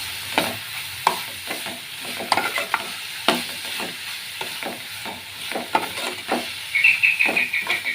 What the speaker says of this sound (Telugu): పచ్చి కొబ్బరి వేసుకున్నాం ఒక కప్పు ఇది కూడా పచ్చి వాసన పోయే వరకు కలుపుకున్నామండి